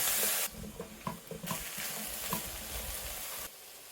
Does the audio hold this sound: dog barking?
no